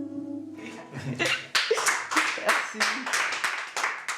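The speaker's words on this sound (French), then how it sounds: "Le jury applaudit" A jury clapping, beginning with a short musical tone, then sharp separate handclaps in an uneven rhythm from a small group, fairly close and distinct.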